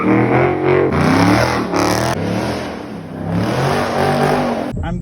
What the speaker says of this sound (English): I'm going to attempt to do a burnout to at least have a little bit of fun on what tread is left on them